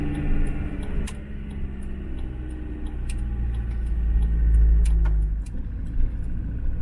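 A car rolls steadily out of Kinsale along a small harbour road, a constant low engine and road rumble swelling slightly midway, with faint ticking and light jangling from inside the cabin.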